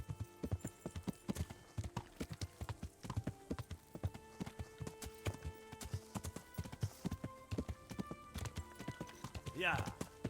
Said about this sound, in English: How is Bernard's horse still here?